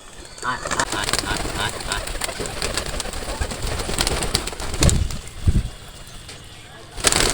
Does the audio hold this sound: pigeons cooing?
yes